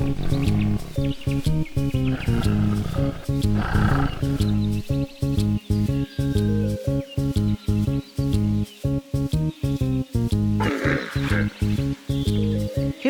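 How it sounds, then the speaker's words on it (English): A tiger roars in a children's nursery rhyme song about jungle animals, with a low growl set into a steady, rhythmic music backing that runs throughout. "Tiger."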